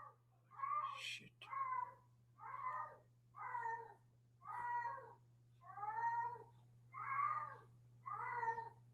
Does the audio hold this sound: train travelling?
no